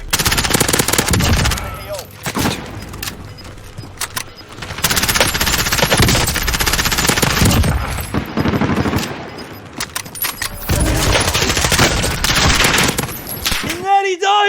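Rapid MP7 gunfire rattles through a Warzone match in dense, loud bursts, layered with other shots and game effects. Commentary is faintly audible underneath.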